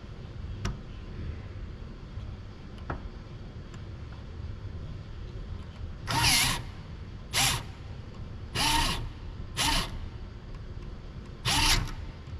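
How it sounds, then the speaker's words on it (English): A Universal Robots UR10e arm drives a bolt into a threaded hole with its screwdriver, producing about five short, sharp whirring bursts in the second half after a quiet stretch with faint ticks. "Before the bolt can be screwed in, I try to sense that the bolt is aligned with the threaded hole."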